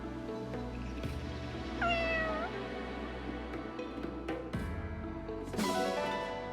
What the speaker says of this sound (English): Ah, Firenese cat.